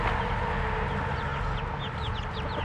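Chickens, including a rooster, cluck and murmur steadily in a backyard flock, several birds calling close by in overlapping bursts with no talk.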